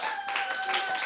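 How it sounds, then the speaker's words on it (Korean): A church congregation claps for children brought up front during a health seminar: brief, dense applause over a steady tonal hum, with no break in the noise. "박수 주세요."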